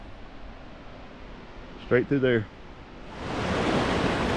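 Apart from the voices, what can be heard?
waterfall on a river in Nantahala Forest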